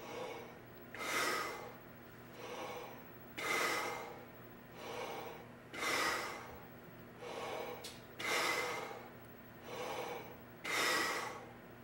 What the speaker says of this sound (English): take an additional 5 inhales and exhales without that tube, but add the to syllable to the exhalations.